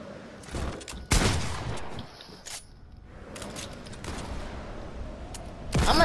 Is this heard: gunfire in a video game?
yes